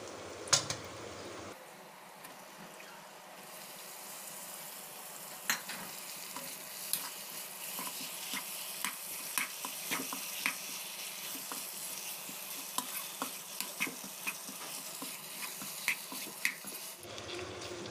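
Mutton sizzles steadily in a hot pan while a spoon scrapes and stirs it in repeated, irregular strokes, close and fairly quiet.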